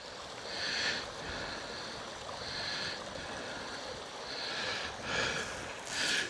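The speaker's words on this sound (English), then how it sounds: "The sound of the water is delightful." Water of the Fairy Pools stream on Skye flowing steadily outdoors, a continuous broadband rush with gentle swells in loudness, heard from nearby and alone without talk.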